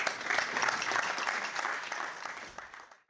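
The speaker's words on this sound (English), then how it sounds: "Give them a round of applause." Audience applause at a London Venture Day fireside chat, a steady wash of clapping from a seated crowd that holds level and then fades out over about three seconds.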